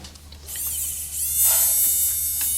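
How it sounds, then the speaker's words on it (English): An electric sweater shaver gives off a steady, thin, high-pitched buzz close by that swells slightly partway through and keeps running without a break. "Try the new sweater shaver."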